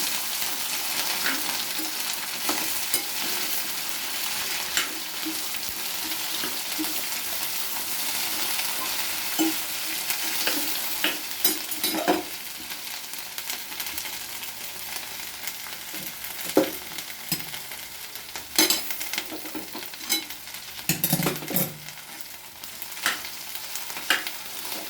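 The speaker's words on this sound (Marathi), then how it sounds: "आणि भेंडी टाकून देऊ सगळी. तिला छान हलवून घ्यायची." Okra frying in a pan over low heat while it is stirred: a steady faint sizzle runs throughout, broken by scattered scraping stirs and a few louder clatters near the end, with no talk.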